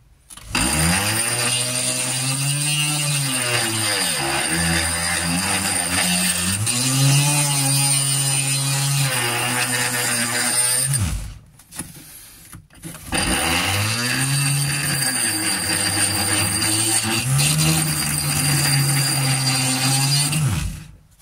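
Wall drill bit grinding grooves into a millstone, a loud continuous abrasive whine with wavering pitch that runs for about ten seconds, cuts out briefly, then resumes just as steadily.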